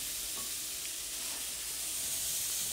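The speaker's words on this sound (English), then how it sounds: "this lets you cook the mushrooms to get nicely browned" Finely minced mushrooms frying in a pan, a steady dense sizzle with hissing steam, close and continuous, with occasional stirring sounds.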